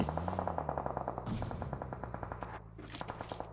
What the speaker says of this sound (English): echoes of gunfire now beginning to fade away from Agatha